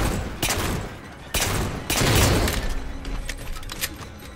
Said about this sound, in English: I'm using my magnum.